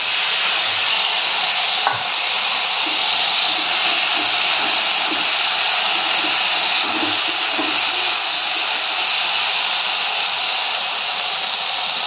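Potatoes and flat beans frying in oil in a home kitchen, a continuous loud hiss of sizzling with faint stirring taps underneath, no one talking.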